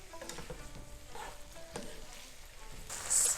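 Tteokbokki rice cakes tossed through a reduced sauce in a hot pan: a soft, continuous sizzle with scattered stirring knocks and scrapes, and a brief brighter hiss near the end.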